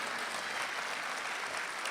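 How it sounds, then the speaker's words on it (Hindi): Audience at a mushaira poetry gathering in Dubai breaks into loud, dense applause, a steady wash of clapping with no voices over it. "एक मरतबा ज़ोरदार तालियां बजाकर मुझे इजाज़त दे दें।"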